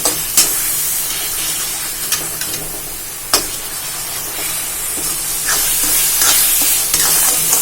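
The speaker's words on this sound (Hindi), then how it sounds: "भी इसे मैं 2 मिनट भूनूंगी।" Carrot halwa with milk, ghee, almonds, raisins and cardamom powder sizzles in a wok over low heat, a steady close hiss of frying broken by sharp scraping clicks from stirring every second or so.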